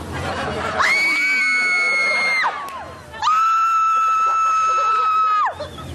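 Two long, loud, shrill screams of excitement from women at a dolphin, each held for about two seconds with a short pause between.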